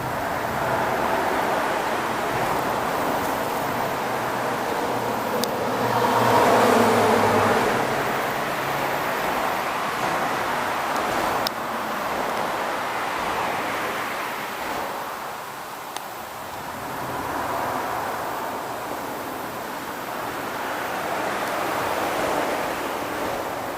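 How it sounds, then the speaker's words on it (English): Traffic noise from a road overhead: a continuous broadband roar of passing vehicles that swells and fades in waves, steady and fairly loud with no voices. "Sorry for the noise from the road above."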